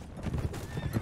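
A horse in the Mount & Blade video game clip-clops close by, its hooves rapid and rhythmic as a short whinny rises over them, the whole burst lasting about a second.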